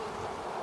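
Honey bees buzz at an open hive in a continuous low hum, close and moderately loud, ending with a short sharp knock.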